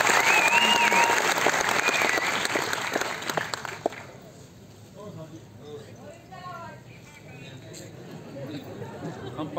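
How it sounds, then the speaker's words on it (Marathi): Audience applause greets Ashok Saraf on stage at a Marathi comedy drama performance, a dense burst of clapping for about four seconds before thinning into scattered claps and crowd murmur. "जोरदार टाळ्या आपण सराफ साहेबांना सांगतो"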